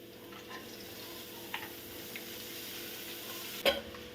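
Cabbage being stir-fried with ginger, garlic and green chilli makes a faint, soft sizzle with a few light utensil taps and one sharper clatter near the end.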